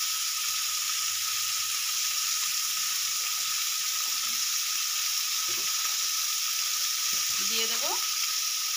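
Small mourola fish and pre-fried vegetables sizzle in hot oil, a loud constant hiss with a few faint clinks and scrapes of a utensil, while someone speaks briefly over it.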